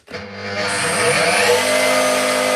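A loud, steady router table motor whine in a woodworking shop spins up fast and holds a constant high-pitched roar with a buzzing hum, close by and running alone.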